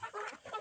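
Chickens, including Lohmann Brown hens, cluck at a village farm in Kuala Rompin, a couple of quick close clucks with no talk.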